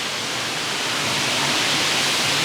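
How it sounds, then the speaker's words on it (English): A natural waterfall pours out of a hillside beside a picnic table at the end of a trail in Rock Island State Park, Tennessee, giving a steady, dense rushing roar that holds evenly and loud throughout, with no voices. "there's a waterfall right beside the picnic table."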